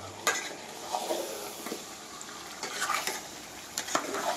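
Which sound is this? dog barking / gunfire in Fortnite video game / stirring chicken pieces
stirring chicken pieces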